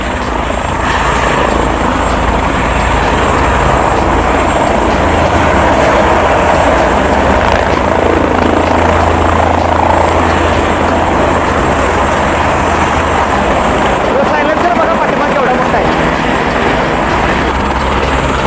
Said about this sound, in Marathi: हेलिकॉप्टर सुरू झाले आणि आता उठणार आहे